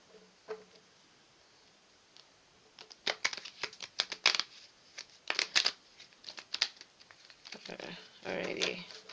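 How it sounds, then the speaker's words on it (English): Tarot cards are shuffled by hand, quiet and close, soft riffling and flicking bursts coming in uneven clusters after a near-silent start. "Let's shuffle."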